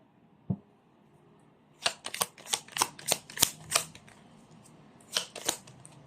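Playing cards are riffled and bridged in two bursts of rapid, crisp flutters, close and fairly quiet, after a single soft tap.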